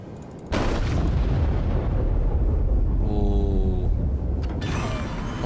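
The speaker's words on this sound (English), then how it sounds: "Fire the cannons." A heavy, sustained roar of battleship cannon blasts in World of Warships from the New Mexico battleship, beginning with a sharp boom and rumbling continuously, with mechanical tones layered in.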